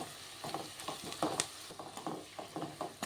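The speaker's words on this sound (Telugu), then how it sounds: "ఈ ఉల్లిపాయ ఇలా ఎర్రగా వేగిన తర్వాత" Onions fry in a pan with turmeric and salt, a close steady sizzle broken by repeated soft stirring scrapes and crackling bursts.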